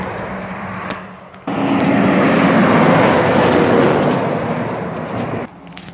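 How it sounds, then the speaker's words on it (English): A 2015 Peterbilt 389 extended-hood truck passes eastbound in Blue Lake, California, its broad engine and tire roar swelling in suddenly, holding loud for several seconds close by, then dropping away. "also a truck coming eastbound. A 2015 Peterbilt 389 extended hood."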